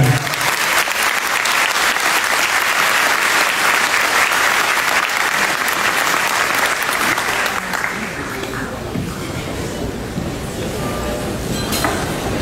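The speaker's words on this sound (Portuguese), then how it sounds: "Eu peço mais uma vez o nosso carinho e o nosso aplauso para o deputado Marcel Van Hatten" An audience gives loud, sustained applause for a deputy at a trophy ceremony; the clapping stays dense for several seconds, then thins into a quieter murmur of crowd noise near the end.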